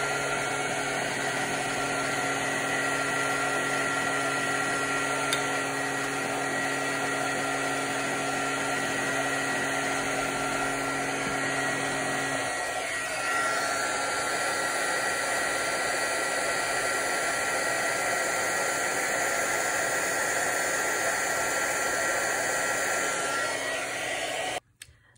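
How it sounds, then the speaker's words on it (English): Heat gun melting copper embossing powder on a card, a steady loud blowing whir with a faint high whine, shifting slightly in tone midway before cutting off at the end. "Here's my heat gun on."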